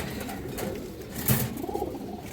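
A female silver pigeon at a farm gives a short, soft coo close by, over low background noise.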